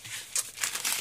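Sheets of paper are unwrapped and crinkled during a craft mail unboxing, giving short, close rustles and crackles in quick bursts with no talking.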